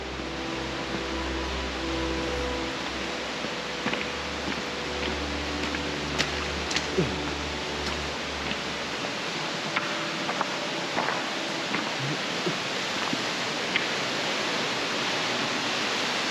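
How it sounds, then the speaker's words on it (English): Underground waterfall in Yordas Cave, a steady broad rush of falling water echoing in the cave, with faint ticks and drips scattered over the roar. "This is where the water is flowing from."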